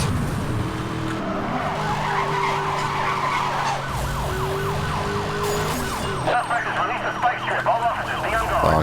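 Engine of a car accelerating during a police chase in the racing game Need for Speed: Hot Pursuit, a steady roar with sirens wailing and tires skidding, close and loud under a man's speech.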